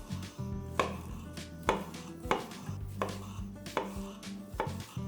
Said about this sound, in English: Slice the tomatoes into rounds.